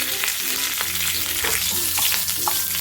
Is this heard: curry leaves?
yes